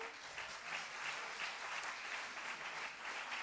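An audience breaks into applause, a continuous wash of many hands clapping, fairly distant and soft, with no voices over it.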